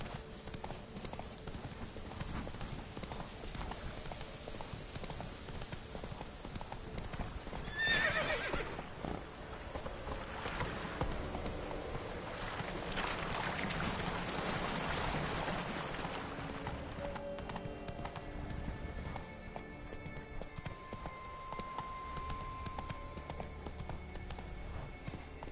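A riding horse in The Witcher video game trots with rhythmic clip-clop hoofbeats, punctuated by a sharp neigh early on, the footfalls steady and fairly close throughout.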